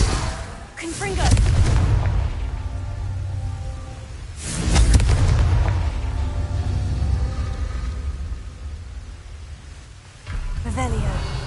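Confringo fire spell explosions in Hogwarts Legacy, with several booming blasts and whooshes, each swelling then fading, spaced a few seconds apart and heard loudly under a player's voice.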